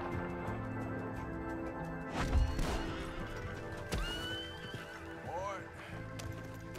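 Horse whinnying in Red Dead Redemption 2, a short neigh rising over steady game ambience with hoofbeats and a thud, fairly close and clear amid background music and noise.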